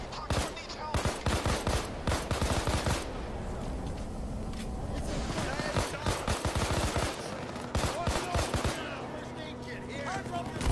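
Rapid bursts of automatic gunfire and single shots from a video game, loud and dense, rattling in clusters with brief lulls, while a voice speaks over the action.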